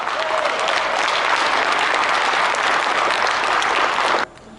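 A large audience at a memorial event breaks into loud, dense, sustained applause that holds steady for about four seconds and then cuts off abruptly.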